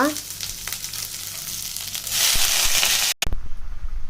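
Green chilli, garlic, ginger, curry leaves and mint sizzle and crackle as they fry in a pan. The close, steady frying noise grows louder partway through, with occasional stirring scrapes, and a brief cut near the end.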